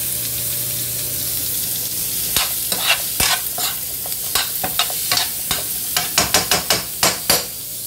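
Avocados fry in bacon fat in a pan, a steady close sizzle broken by a series of sharp scraping stirs that come faster toward the end, with no voices.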